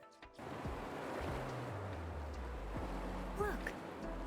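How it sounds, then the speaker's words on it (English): Water rushing and sloshing in the video game Wuthering Waves as a water level drains, a steady broad wash that stays fairly loud throughout, with faint low game tones underneath. "Look, the water is going down. Why was that water sound kind of loud?"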